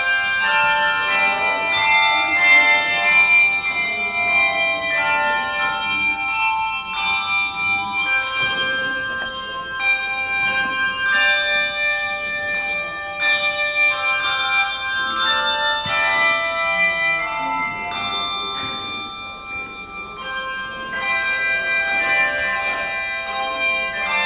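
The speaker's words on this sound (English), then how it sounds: "You're listening to our bell choir." A church handbell choir plays before a Christmas Eve service, the clear ringing tones and overlapping chimes continuing steadily and fairly loud throughout, with no talking.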